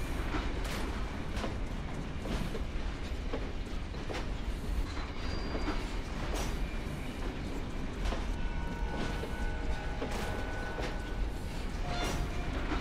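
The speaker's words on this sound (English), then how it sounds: "The train is like still making noises." A train in the video game Metro Last Light gives off a steady, loud rumble with rhythmic clattering and occasional faint metallic squeals, sounding continuously throughout.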